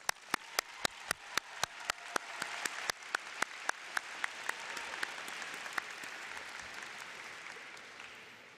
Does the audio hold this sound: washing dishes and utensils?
no